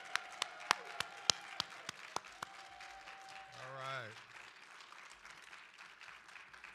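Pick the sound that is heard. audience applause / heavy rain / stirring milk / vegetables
audience applause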